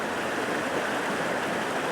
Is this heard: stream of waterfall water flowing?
yes